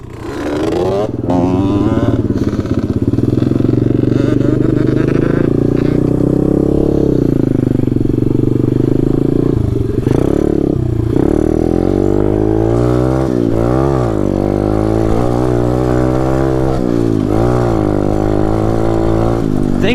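Taotao DB17 125cc pit bike engine while riding, a loud close buzzing drone that rises and falls with repeated throttle revs and gear changes for the full twenty seconds.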